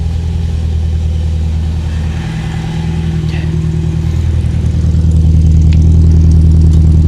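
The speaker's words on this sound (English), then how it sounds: "Exhaust sounds good." A 1975 MGB that sat unused for 16 years runs steadily close up, a deep, even exhaust note that builds slightly louder toward the end.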